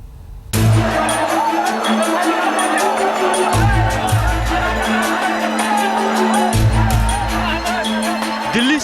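Heavy crowd of passengers at Delhi railway station, a loud dense babble of many voices and shouts, with a steady tonal hum and a deep rumble coming and going beneath.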